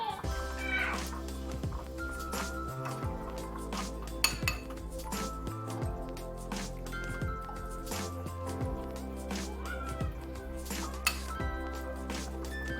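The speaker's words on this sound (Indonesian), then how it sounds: "Kita aduk-aduk sampai semua bahan dan bumbunya tercampur rata." A spoon clinks and scrapes against a pot while batter with added water and spices is stirred for brulee bombs, with repeated metallic taps and ringing tones in an irregular rhythm under soft background sounds.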